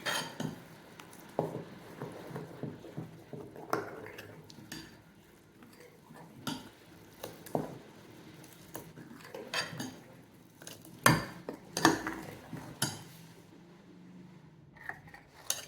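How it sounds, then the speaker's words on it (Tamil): Ragi appam batter being mixed in a bowl with a spoon, a steady run of soft scraping and clinking strokes against the bowl, close and fairly quiet, with no talking. "ஆப்பம் மாவு ரெடி ஆயிடுச்சு. இதை கலந்து விட்டுலாம்."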